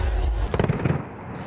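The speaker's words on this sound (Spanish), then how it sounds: "En Sydney, los fuegos artificiales iluminaron el cielo." New Year fireworks explode over Sydney in a quick cluster of sharp crackling bursts after a deep low rumble, heard at a moderate distance and fading into a soft wash of crackle.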